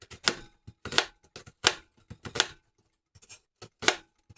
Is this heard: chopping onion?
yes